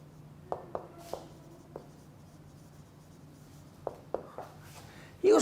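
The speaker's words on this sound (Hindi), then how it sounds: "इधर लिख देता हूँ," Chalk or marker taps and short strokes on a classroom board come in two quick clusters, close and distinct, with a pause between them and little else audible.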